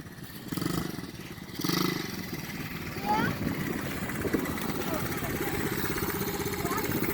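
A dirt bike engine runs steadily at low revs nearby, with a couple of brief throttle surges early on, beneath a voice talking.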